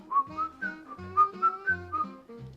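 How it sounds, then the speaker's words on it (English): Someone whistles a tune, a bright melody of short, distinct notes at a steady rhythm. It is close and alone, with no other voices. "I'm still gonna whistle"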